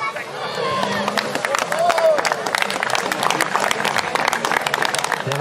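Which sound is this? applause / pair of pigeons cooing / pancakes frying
applause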